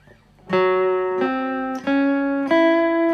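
Four plucked acoustic guitar notes ring out one after another, each sustained and clear, played alone in a slow, steady intro riff.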